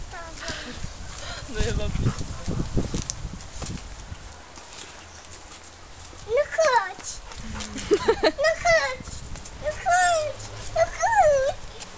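A dog whimpers and yips in high, wavering cries, several short bursts near the close, with low thumps and shuffling earlier on.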